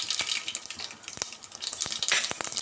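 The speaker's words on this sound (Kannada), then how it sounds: "ಇವಾಗ ಸಾಸಿವೆ ಸೇರಿಸ್ಕೊತಾ ಇದ್ದೀನಿ." Mustard seeds crackle and sizzle in hot oil, a busy hiss scattered with sharp, close popping snaps throughout.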